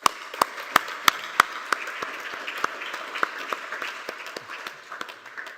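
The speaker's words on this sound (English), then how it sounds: "Let's give you a round of applause." Sparse applause from a small audience at a college event, a handful of distinct sharp claps rising out of softer patter, loud and close at first, then thinning out.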